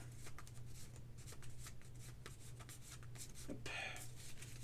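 Playing cards riffle and flutter in a quick shuffle, soft and close, with a brief sharper snap near the end over a low steady hum.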